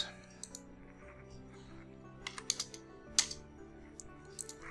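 Keys on a computer keyboard are tapped quietly at close range in an irregular scatter of short clicks, with a sharper press near the end.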